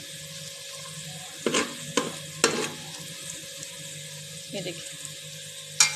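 Onions frying for mutton korma sizzle softly in a pan while a spoon stirs them, with several sharp scraping knocks, as a person talks over it.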